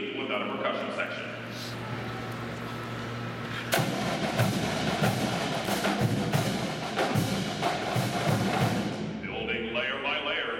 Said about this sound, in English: Snare drums, bass drums,